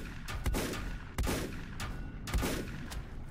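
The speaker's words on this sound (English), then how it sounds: "I have that turret right there shooting at me" A hostile turret fires in the video game Volcanoids from a fair distance, letting off three sharp bursts of gunfire about a second apart, each echoing briefly against a low background rumble.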